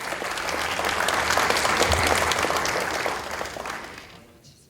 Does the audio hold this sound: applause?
yes